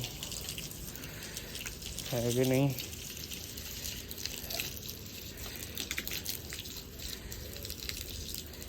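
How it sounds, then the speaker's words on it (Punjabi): Water sprays from a pipe in a steady, close hiss that runs the whole way through, with people talking over it and a brief tonal squeal partway in. "ਲੋ ਜੀ ਹੁਣ ਦੇਖੋ ਆ ਪਾਣੀ ਮਾਰਦੀ"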